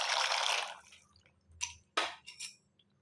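Dry pasta drops into a pot of boiling, oiled water with a short hiss followed by a few brief, quiet splashes and clinks, with no voices.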